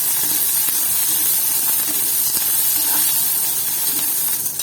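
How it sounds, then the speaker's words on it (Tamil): Onions sautéing in a pan for ponnanganni keerai poriyal give off a steady, close sizzle with a dense, even hiss that runs the whole time, with no voices over it. "வெங்காயம் கொஞ்சம் வதங்கட்டும்"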